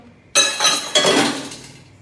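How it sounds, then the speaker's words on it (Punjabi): Dishes and utensils clink and clatter as vegetable curry is served out of a pot in a home kitchen: a sharp clatter, a second burst about half a second later, then a fading rattle. "ਭਾਂਡੇ ਸਾਫ਼ ਹੋ ਗਏ ਨਾਲ ਸਬਜ਼ੀ ਕੱਢ ਦੂੰ ਭਾਂਡੇ ਚੋਂ"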